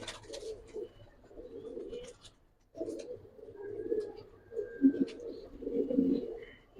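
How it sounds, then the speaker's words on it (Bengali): Silver beji pigeons at a pigeon seller's stall coo softly in repeated low murmurs, with a brief quiet gap early on, then steady overlapping cooing close by, and a few faint chirps above. "এই যে সিলভার বেজি কবুতর"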